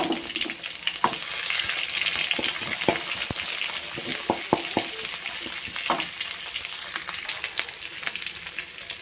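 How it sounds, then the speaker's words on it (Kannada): Chopped onion and chili fry in hot oil with mustard seeds in a pan, giving a steady close sizzle with frequent small pops and crackles and occasional stirring clinks. "ನೀರುಳ್ಳಿ ಮೆಣಸನ್ನು ಹಾಕ್ತಾ ಇದ್ದೇನೆ"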